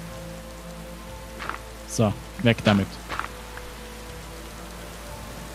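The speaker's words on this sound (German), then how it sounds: "da regnet es gerade noch rein" Rain falling in the Minecraft video game, a steady soft hiss throughout with a few short words of German speech over it.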